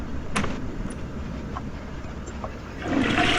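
Toilet flushing in The Sims 4, a short game sound effect with a few soft clicks before a rising rush of water near the end.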